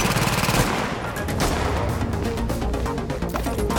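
Rapid machine-gun fire from a turret in The Division, loud sustained rattling bursts of shots with crashing impacts, continuous across the whole stretch.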